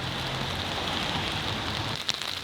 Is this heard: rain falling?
yes